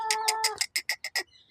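A large rooster clucks outdoors in the morning, giving a held tone followed by about five short, evenly spaced, fairly close clucks with quiet between them.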